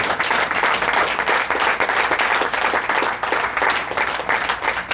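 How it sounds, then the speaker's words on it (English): A crowd at a professional senior bowling tournament, the PBA50 Central/Midwest Open, gives loud, sustained applause for the second-place finisher, thick continuous clapping throughout without letting up. "Before, as Billy is walking out here, how about a nice round of applause for our second place finisher, John Marcella."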